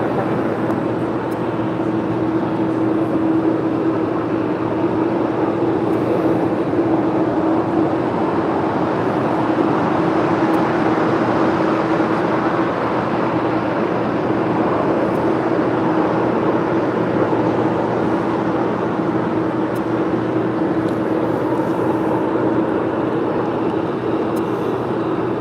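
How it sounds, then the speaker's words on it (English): A United Boeing 777 lining up for departure on runway 25 right at LAX, a steady broadband engine rumble with a constant low hum that stays even and distant for the whole stretch, no voices. "we've got that United 777 now lining up for a departure on 25 right"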